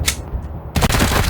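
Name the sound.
gunfire in a video game shootout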